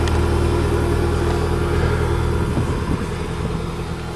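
Modified car with multiple exhausts and a welded differential rumbling and revving at a farm field race, a steady loud engine drone close by, with no voices.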